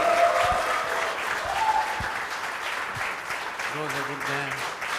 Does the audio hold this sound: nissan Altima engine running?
no